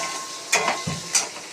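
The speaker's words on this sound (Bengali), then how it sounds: "ঢাকা দিয়ে আলুটাকে ভালো করে ভাজা ভাজা করে নিয়েছি।" Potatoes frying in a covered pan for a Bengali vegetarian dish, giving a steady low sizzle with a few brief louder stirring scrapes, close and alone.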